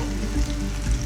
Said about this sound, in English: They're sizzling nicely